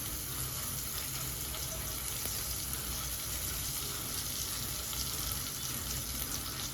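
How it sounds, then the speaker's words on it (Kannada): Cumin seeds and chopped curry leaves fry in hot oil, a dense, steady crackling sizzle that stays level throughout, heard close with no voices. "ಜೀರಿಗೆ ಎಲ್ಲ ಚೆನ್ನಾಗಿ ಫ್ರೈ ಆದಮೇಲೆ ನಾವಿಲ್ಲಿ ಸ್ವಲ್ಪ ಕರಿಬೇವಿನ ಸೊಪ್ಪನ್ನ ಹಾಕ್ಕೊತಾ ಇದ್ದೀನಿ."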